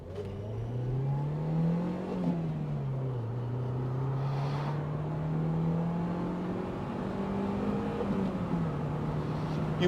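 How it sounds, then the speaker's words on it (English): MG TF sports car engine revving hard through a corner, a loud continuous drone that rises and falls in pitch with the throttle, heard from inside the car. "You really do have to rev it to get the best out of it"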